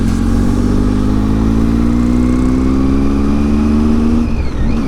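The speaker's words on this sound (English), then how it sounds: "You see, this is Tata Punch. Nice looking car, yeah. Small car." A Tata Punch compact SUV engine roars loudly and steadily close by, its pitch climbing gradually as the car speeds along a road.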